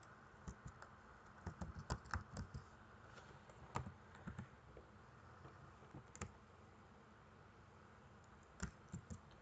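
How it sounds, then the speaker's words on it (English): Keys tapped on a computer keyboard while a password is entered, a quiet run of irregular clicks in short bursts with pauses between, close and alone over faint background hiss. "type in the password that you just used for your admin"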